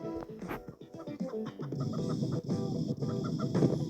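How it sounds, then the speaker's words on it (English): Chicken clucking in the Turbo Dismount video game, a rapid series of close, choppy clucks and squawks following one another without pause across a few seconds, with no talking. "Time for you, little bird, to cluck your way to freedom"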